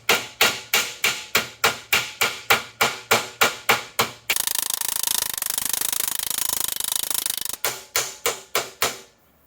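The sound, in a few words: metal body working hammer shaping sheet metal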